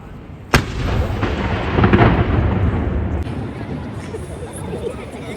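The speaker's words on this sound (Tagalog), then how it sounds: "1 o'clock cannon fire." Edinburgh's one o'clock cannon fires in a single sharp boom near the start, then a long rumbling echo rolls on beneath a crowd's chatter and talking nearby.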